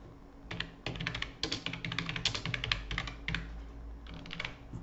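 Typing on a computer keyboard, a rapid irregular run of close, crisp key clicks in bursts with short pauses, alone and fairly quiet.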